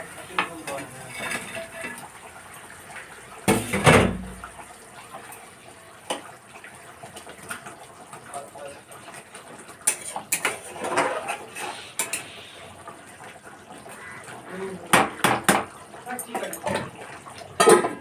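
Tilapia pieces are tipped into a boiling curry for a tel jhal dish with splashes and clatters, followed by scattered clinks of a pan and utensil, while a voice talks intermittently.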